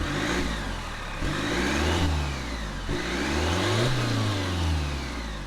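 A 2018 Chevrolet Cruze diesel hatchback with a 1.6-liter four-cylinder engine pulls under load, its drone rising in pitch through repeated gear changes, loud and continuous from inside the car.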